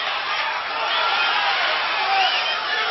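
Boxing arena crowd roaring and cheering steadily throughout a bout, a dense continuous wash of voices with occasional whoops rising above it, loud and sustained without a break.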